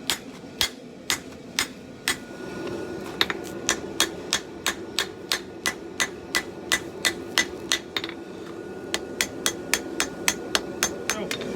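Hammer blows strike a steel knife blade to form its edge bevel, a long run of sharp, evenly spaced metallic strikes close up, repeating about twice a second with brief pauses.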